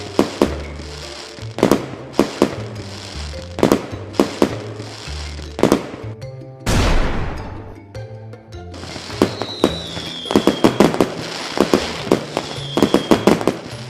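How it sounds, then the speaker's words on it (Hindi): Diwali firecrackers bang in rapid, uneven bursts, with one longer crackling blast in the middle, close and loud. "अगर चाहे तो आप एक पटाखा लेकर टेस्ट कीजिए"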